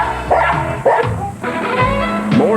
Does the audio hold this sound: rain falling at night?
no